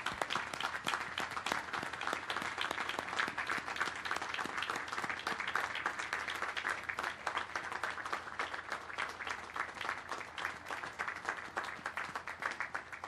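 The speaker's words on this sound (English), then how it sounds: "a round of applause." A large crowd applauds steadily for over ten seconds at a navy ship commissioning ceremony, a dense, even wash of clapping with no break.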